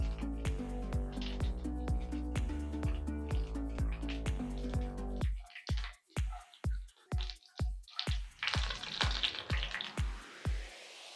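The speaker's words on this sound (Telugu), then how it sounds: "పల్లీలు అయితే మంచిగా ఫ్రై అయిపోయాయి" Peanuts, mustard seeds and cumin fry in hot oil, a steady sizzle under a run of rhythmic tapping clicks, shifting to sparser popping and crackling midway, close and moderately loud.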